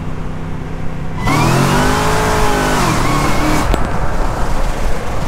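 A hard-launched 800 whp Cadillac CTS-V accelerating in a 40 mph roll at a drag raceway, its engine note climbing loud and close through the gears, then easing off as the car passes into a steady background roar.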